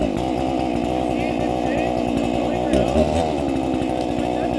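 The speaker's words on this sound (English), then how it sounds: "This saw from Husqvarna våpenfabrikk is a little hard to get started." A Husqvarna chainsaw made by Husqvarna våpenfabrikk, an old saw that is hard to start, runs with a loud, steady engine drone while wood is being cut, with a voice talking over it.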